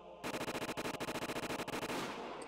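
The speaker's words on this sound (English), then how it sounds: "The sound of the gunshots echoed in the silence." Soldiers in the Higurashi video game fire an automatic weapon in one long, loud, rapid burst of evenly spaced shots that runs for about two seconds before fading into a lingering echo.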